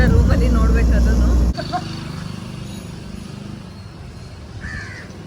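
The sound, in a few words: crows cawing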